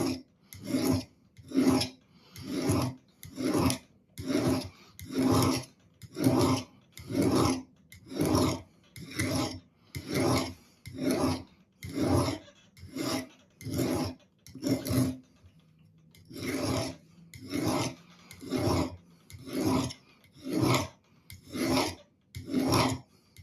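An old sharpening stone rasps along a steel blade in steady, evenly paced strokes, about one a second, each a gritty scrape with a faint metallic ring, close and alone with a short pause midway.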